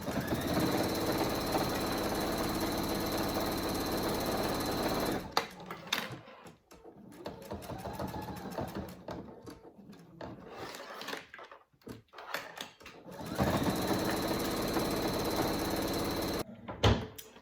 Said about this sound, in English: I finished sewing up the top stitching all the way around the edge